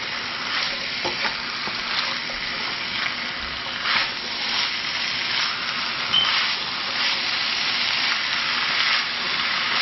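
Chicken sprinkled with turmeric fries in a pan for biryani, a continuous close sizzle broken by scraping strokes as it is stirred, with no one talking.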